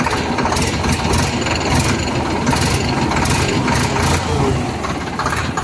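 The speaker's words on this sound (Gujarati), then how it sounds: "એન્જિનનો રિસ્પોન્સ બહુ સારો છે." An Eicher 551 tractor with a 50 HP engine and HML gearbox runs steadily, its loud, continuous low engine drone holding close and even throughout, with no speech over it.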